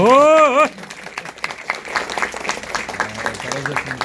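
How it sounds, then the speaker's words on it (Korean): A brief spoken phrase gives way to scattered clapping from guests at a cyber university executive program entrance ceremony. The clapping is sparse at first, then thickens into moderate applause mixed with faint murmurs. "우리 경찰서장님께도 박수 한 번"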